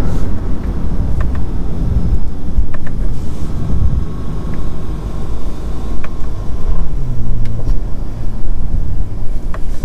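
Bentley Continental GT engine heard from inside the car while driving, a low, steady rumble mixed with road and wind noise, with brief clicks and a faint tonal whine at times.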